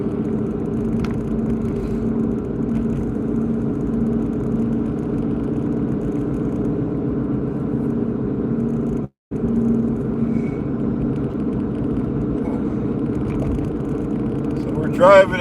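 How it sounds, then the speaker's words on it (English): A Mercedes-Benz SL 420 on the move, a steady low rumble of engine and road noise from inside the cabin, with someone talking over it throughout. "we're driving in our SL 420 Mercedes-Benz"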